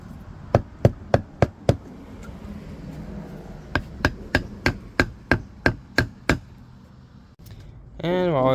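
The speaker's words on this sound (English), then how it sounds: "And we'll come back with the hammer." Sharp hammer taps on wood in two bursts, five quick strikes then about ten steady ones, close and loud over faint background noise, while building a log reindeer.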